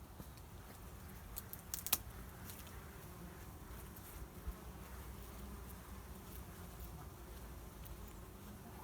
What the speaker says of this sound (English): what it looks like as the bees come and go